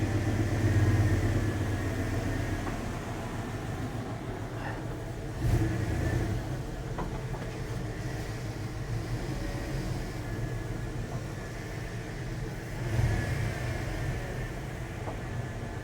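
A tuned V8 truck engine with its exhaust pipes disassembled drives down the road, a loud, steady low rumble with brief revving surges, heard from inside the cab with no one talking.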